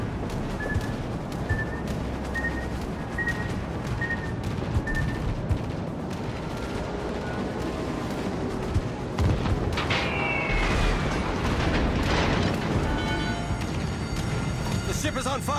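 Warship guns in World of Warships: Legends boom again and again alongside rapid smaller gunfire, a dense, loud battle din with voices speaking over it.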